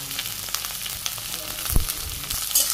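Okra frying in a pan with green chillies gives a continuous close sizzle and crackle, loud and even, broken by a brief low thud from stirring near the middle and no talk.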